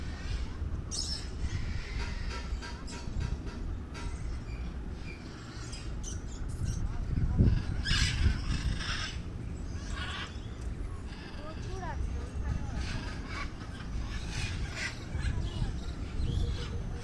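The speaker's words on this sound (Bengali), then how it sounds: "এই পুরো জায়গাটা জুড়ে হাঁস রয়েছে" Ducks quacking and squawking in the bird enclosure of an eco park, scattered calls rising over steady outdoor noise, with people talking throughout.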